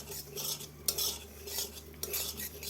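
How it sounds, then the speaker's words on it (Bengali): Semolina stirred continuously in a pan with a metal spoon, repeated scraping and clinking strokes in a steady rhythm over a soft low hum, close and fairly quiet with no voices. "যেমন আটা অনবরত নেড়েছি, সুজিটা দিয়েও ওরকম অনবরত নাড়তে হবে।"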